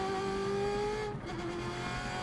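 A race car screams through a qualifying lap, its engine holding a loud steady high-pitched whine that dips briefly as it shifts or lifts, then picks up again, with no talking over it.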